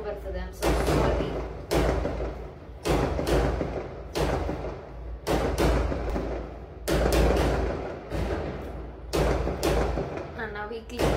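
Firecrackers bursting outside during a village fair festival: a series of heavy, booming bangs every second or so over a steady rumbling background, fairly close and loud.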